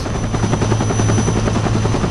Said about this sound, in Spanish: Helicóptero, ¿qué cojones?